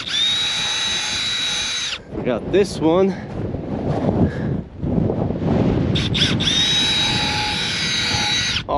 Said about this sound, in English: I think I'm gonna pre-drill like this. Yeah, let's go like this on an angle.